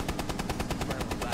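Rapid automatic gunfire in the tactical shooter Rainbow Six Siege, a steady burst of about a dozen evenly spaced shots, loud and close, with no talk over it.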